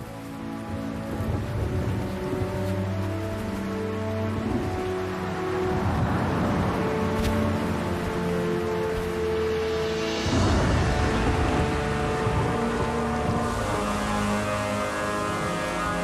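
Steady heavy rain pours throughout a mountain thunderstorm, with low rumbling thunder rolling in the background and a louder surge of rain and thunder partway through.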